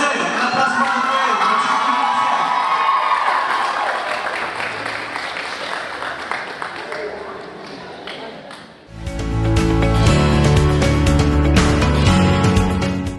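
Audience at a Spanish-language youth family gathering bursts into applause and cheering, a dense wash of clapping that fades mid-clip before music with crowd noise swells back in loudly.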